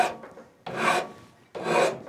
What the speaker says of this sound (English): these files are actually designed to cut in one direction, just like Billy Zane